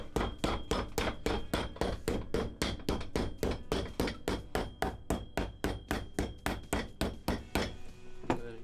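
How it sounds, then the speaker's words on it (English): A hammer strikes steadily on a boot heel being resoled, about three sharp metallic blows per second, loud and close, repeating evenly for several seconds with no talking. "Stick through the center, press it out, hammer it down."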